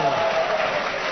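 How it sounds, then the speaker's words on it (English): A studio audience at a radio panel game claps in a dense, steady wash of applause that lasts a moment, with voices talking over it. "God knows why they clap"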